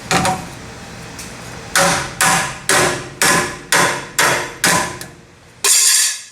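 Seven loud, evenly spaced hammer blows strike a 2003 Chevy truck axle to free its retaining clip, each sharp metallic hit ringing briefly before the next, with no talking.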